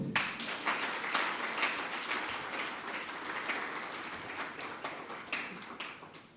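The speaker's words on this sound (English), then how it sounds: "give a bigger clap" An audience claps steadily throughout a curriculum launch event for sustainable finance, a dense, continuous wash of applause with no speech over it.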